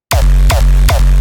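Three hardstyle kick drums hit in a steady pulse, each a punchy distorted thump with a pitched, booming tail, loud and close with no other sounds.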